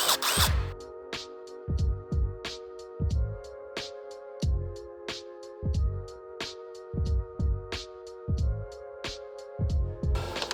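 A ratchet with a wobble extension and 8mm socket loosens bolts on a 6.7L Cummins diesel crankcase ventilation filter cover, giving rapid, steady clicking strokes in repeated bursts, close and fairly quiet.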